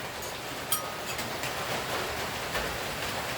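Sudden rain falls steadily, a dense even hiss of drops on surfaces nearby, with a couple of brief knocks and no talking over it.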